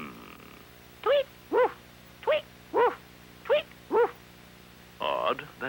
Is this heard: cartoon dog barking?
yes